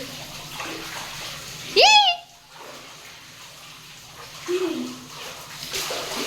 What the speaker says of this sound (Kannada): ನಮ್ಮ ಹಳೆ ಬಚ್ಚಲ್ ಮನೆದು ಈ ತೊಟ್ಟಿ ಒಳಗಡೆ ಸ್ನಾನ ಮಾಡ್ತಾವ್ರೆ, ಈಜು ಹೊಡಿತಾವ್ರೆ